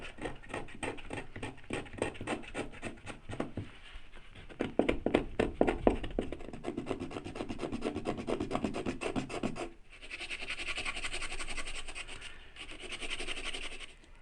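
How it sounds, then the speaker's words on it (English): The wooden soundboard of a Guild JF30 acoustic guitar is scraped with quick, rhythmic rasping strokes close up, followed by a smoother, longer stretch of scraping, with no talking. "we're actually going to want to scrape from this side here"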